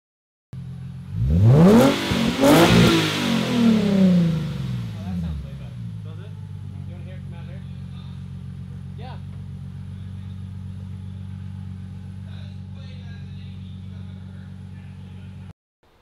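A 2017 Ford F250 pickup with an ISR single-tip exhaust revs hard in a loud, close burst that sweeps up and falls away over a few seconds, then settles into a steady low idle rumble.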